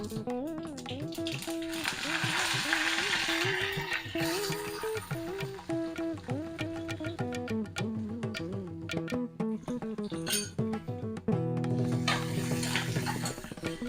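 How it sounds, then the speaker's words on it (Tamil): Onion sautés in hot oil with mustard seeds, green chili and curry leaves in a kadai, giving a steady soft sizzle with occasional stirring clinks, fairly quiet beneath a melodic music track. "வெங்காயம் கொஞ்சம் வதங்கட்டும்."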